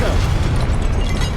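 Loud, dense blast of a Confringo fire spell from Hogwarts Legacy, a sustained rumbling explosion that fills the short moment without pause.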